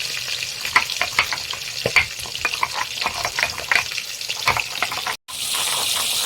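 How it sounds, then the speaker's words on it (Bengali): Fish frying in a pan while being stirred, a loud close sizzle broken by frequent scraping strokes and clatter, with one brief dropout and then a steadier hiss, no talking. "মাছগুলো আমার মোটামুটি নাড়িয়ে দিয়ে সবই ভেজে নিলাম"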